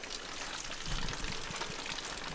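Steady broadband rush of running water, like a hose spraying, continuous throughout with a slight rise partway through.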